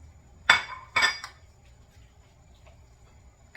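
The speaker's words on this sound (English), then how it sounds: "So in go my green peppers." Diced green peppers tipped into a pot of lamb stew land as two quick, close clattering splashes about half a second apart, followed by quiet.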